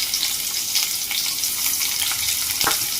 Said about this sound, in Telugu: ఆనియన్ మంచిగా వేగిపోవాలి.